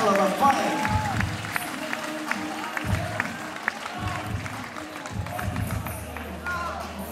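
Crowd at a professional boxing event applauds the two boxers after a ten-round flyweight fight, a steady wash of clapping and cheering under an announcer's voice.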